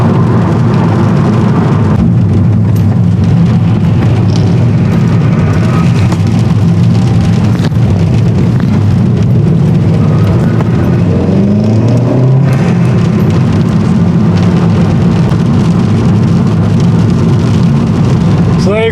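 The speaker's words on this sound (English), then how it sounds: "That's the exhaust noise." Vauxhall Corsa E VXR with mid silencer and resonator deleted, a loud, continuous low exhaust drone heard from inside the car while driving, with rising and falling engine tones. Talking is faintly audible under the noise.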